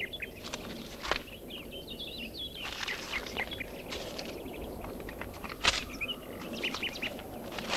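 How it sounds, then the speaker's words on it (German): Small birds chirp in short, scattered bursts over a steady background hiss, moderately close but never loud. "Wo hast du übrigens den Vogel gefangen?"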